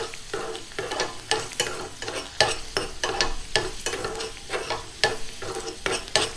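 Garlic and cumin fry in hot oil with a steady sizzle while a utensil stirs the pan in regular scraping strokes, close and moderately loud, cooking a bottle gourd milk kootu, with no talking.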